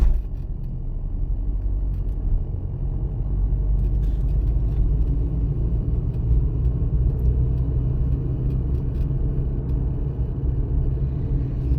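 A car moves slowly through city streets during a driving lesson, producing a steady low engine and road rumble heard from inside the cabin, continuous and even.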